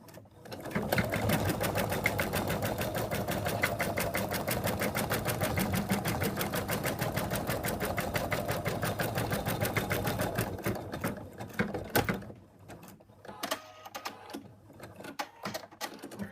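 An embroidery machine stitches a ladybug purse with big, fast stitches, running as a rapid, even needle chatter for about ten seconds, then slowing into a few scattered clacks and pauses.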